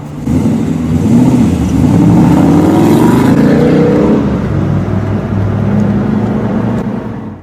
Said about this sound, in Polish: Tym razem nikt nie miał wątpliwości, że jest to V8. Posłuchajcie sami, jak brzmiał.